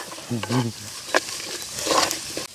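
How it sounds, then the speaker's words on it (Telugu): Onions and green chillies frying in a pan for a curry, with a low sizzle and stirring scrapes through the clip. A voice is briefly heard at the start. "ఎర్రగడ్డలు అయితే బాగా దోరగా వేగిపోయినాయి"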